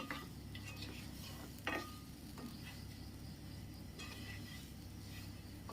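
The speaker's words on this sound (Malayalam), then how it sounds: "എന്നിട്ട് വീണ്ടും നമുക്ക് ഫ്ലെയിം ഓൺ ചെയ്ത ശേഷം നമ്മൾ എടുത്ത് വെച്ചേക്കുന്ന മുട്ടയൊന്ന് ഇട്ട് കൊടുത്തിട്ട് ഒന്ന് റോസ്റ്റ് ചെയ്തെടുക്കാം" Eggs roasting in a pan with spice powder for an egg curry, a faint soft sizzle with occasional scraping stirs of a spatula against the pan, quiet and without talk.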